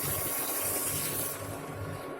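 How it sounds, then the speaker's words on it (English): A glass of water poured into a pan holding sugar while making mango jelly: a steady, close splashing rush of liquid lasting a couple of seconds, with no talk. "Now take a pan and add half cup of sugar in it. With that 1 glass of water."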